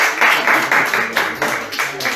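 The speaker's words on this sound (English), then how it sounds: "Round of applause." A podcast's live audience breaks into applause that swells and dips in repeated surges about every half second, fairly loud and close, with a voice faintly underneath.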